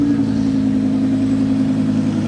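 An Audi R8 with a V10 engine runs close by, giving a loud, steady, deep engine tone that holds even throughout with no clear rise in revs.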